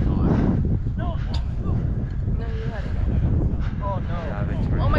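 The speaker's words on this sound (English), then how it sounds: "It's all just the wind." Strong wind roars steadily into the microphone, a heavy rumbling buffet for the whole stretch, while excited voices cry out over it.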